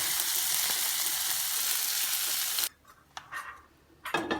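Potatoes and onions fry in a pot with a loud, steady, hissing sizzle that cuts off abruptly, followed by faint clatter and a brief return of sizzling at the end.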